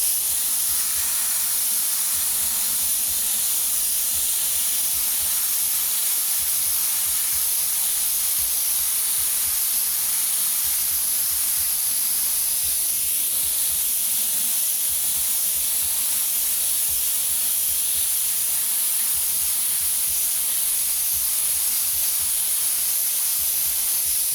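An airbrush sprays blue paint in a fade, a steady broad hiss that runs almost unbroken for the whole stretch, with brief pauses in a low rhythmic pulsing underneath.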